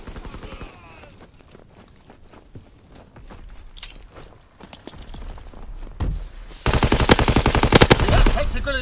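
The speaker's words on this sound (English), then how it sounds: "Keep firing." Machine gun fire in Call of Duty WW2 on PS4, heard as sparse sharp cracks at first and swelling into a loud, dense burst of rapid automatic fire in the final seconds.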